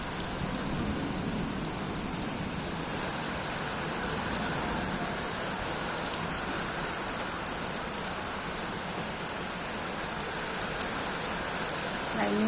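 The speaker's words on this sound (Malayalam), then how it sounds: "ഭയങ്കര മഴ" Heavy rain pours steadily outside a window during a thunderstorm, a dense, constant hiss and patter that continues without pause and stays fairly loud throughout.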